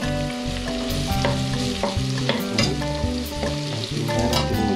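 Garlic fries with pork ribs for a Bicol Express, a steady dense sizzle crackling throughout under rhythmic scraping and stirring, with tonal sounds layered on top and no speech.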